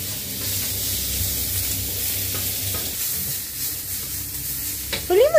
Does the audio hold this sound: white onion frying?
yes